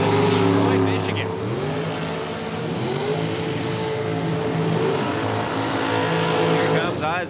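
A 2014 American Race Cars dragster running in Super Comp drag racing at Norwalk: a loud, close engine roar with a strong pitch that dips and rises as it pulls hard, sustained for several seconds.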